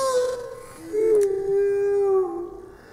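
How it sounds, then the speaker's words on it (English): A dog's howl slowed to quarter speed, a long, low, drawn-out wavering tone that rises and sags, close and fairly loud. "Legendary dog."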